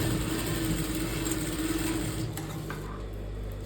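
A sewing machine stitches blouse fabric with a continuous low mechanical whir and rapid needle rhythm, close and fairly quiet, easing slightly toward the end.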